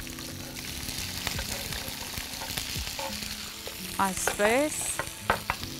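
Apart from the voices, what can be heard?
mushrooms and green beans frying and stirred in a pan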